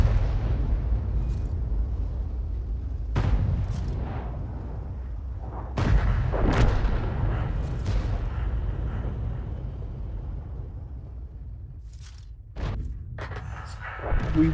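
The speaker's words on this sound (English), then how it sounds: "he's not so keen to receive his shell, and that landed just the other side of him" Artillery rounds boom during a War Thunder tank battle featuring the SU-14-2, with several heavy explosions and thuds spread across a rumbling backdrop, the sharpest impacts landing near the start, middle and end.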